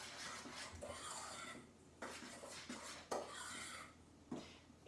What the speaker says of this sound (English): I'm going to get my spoon. And we're going to just mix that up.